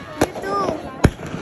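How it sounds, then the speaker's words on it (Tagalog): New Year fireworks bursting in Baguio, with two sharp booming pops about a second apart over a steady hum of crowd noise and distant crackle. "Fireworks everywhere."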